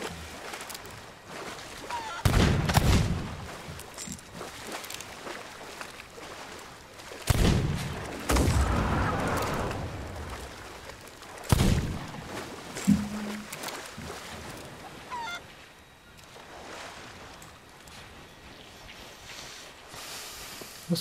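Cannon fire from ships in the pirate game Sea of Thieves: several loud booming blasts spaced a few seconds apart, each trailing off into rumbling noise, with splashy ship and water sounds between and no clear talk.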